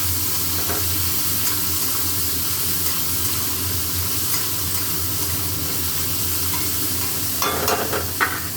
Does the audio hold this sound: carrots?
yes